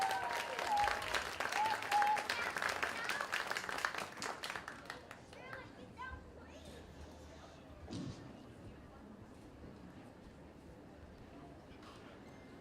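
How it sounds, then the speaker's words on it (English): A group breaks into energetic applause for a police K9 team at a police dog event, gradually thinning and fading, with scattered voices and movement continuing afterward. "Give them all a round of applause."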